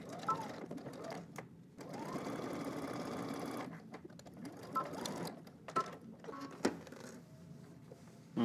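A sewing machine stitches a shirt facing, running in a few bursts with pauses and a back stitch at each end, fairly quiet and close, with a voice talking between runs.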